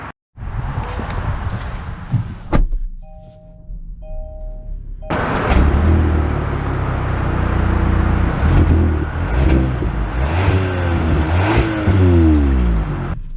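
A 2023 Kia K5 GT-Line AWD sedan starts and pulls away, its engine rising through several revving sweeps as it accelerates, following a brief quieter stretch with a faint electronic chime inside the cabin.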